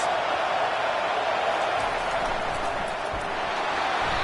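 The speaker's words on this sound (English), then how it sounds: "Listen to this crowd just shaking the girders of this place, trying to help their defense." Loud, dense football stadium crowd roaring in support of the home defense, a continuous wall of noise filling the whole stretch with no let-up.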